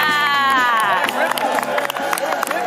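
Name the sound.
crowd clapping at D23 Expo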